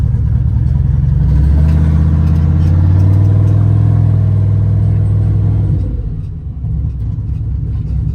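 A Chevrolet Trailblazer SS drag-and-drive car on big 315 tires rumbles with a loud, deep, lumpy engine note that rises in pitch, holds, then drops back to a throbbing idle, close by.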